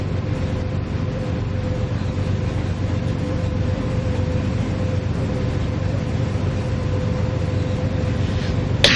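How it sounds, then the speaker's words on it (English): A GEVO diesel locomotive in Train Sim World 3 gives a steady, loud drone of traction motors with a constant hum and tone, running unbroken for the whole stretch, with a brief clunk near the end. "I really do like the new Gevo traction motors. They definitely do sound really nice."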